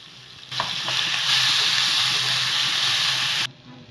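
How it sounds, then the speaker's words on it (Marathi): Crushed green chilli and cumin hit hot oil in a wok with a sudden loud, steady sizzle that holds for about three seconds and then cuts off, close up with no talking. "कढईमध्ये थोडंसं तेल घालून त्यामध्ये जिरं घातलं आहे आणि या जिऱ्यामध्ये आपण मिरचीचा ठेचा घालायचा आहे"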